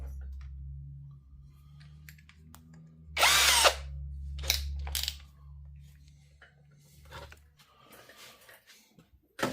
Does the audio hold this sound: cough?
no